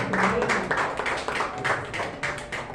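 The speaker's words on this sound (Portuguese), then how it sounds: "as palmas louvam ao Senhor" A church congregation claps in rhythm, a steady series of close, bright hand claps with a lively, reverberant room feel and faint voices mixed in.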